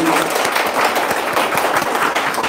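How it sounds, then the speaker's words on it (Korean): An audience applauds after a lecture, dense steady clapping from many hands filling the room for a couple of seconds. "박수로 보내드립니다"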